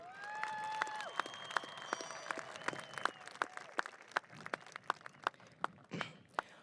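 Scattered claps ring out from a high school graduation audience, sparse and distinct at first, then quickening, with high whistles sliding over them early on; the whole scene stays fairly faint and distant.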